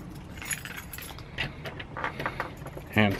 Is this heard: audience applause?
no